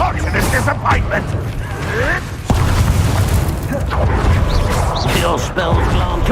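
A Confringo fire-blast spell bursts during a duel in Hogwarts Legacy, a booming impact over dense combat noise with a sharp hit midway, mixed with voices and other spell effects.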